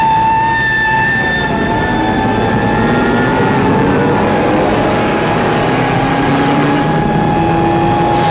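A four-engine aircraft with one engine on fire drones loudly and steadily as it comes in for an emergency landing in a 1950 film scene, its tones wavering slightly throughout with no speech.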